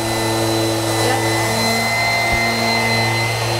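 Electric sander running during a custom shelf build, a loud steady motor whine with constant tonal hum and broadband hiss, uninterrupted for the whole stretch.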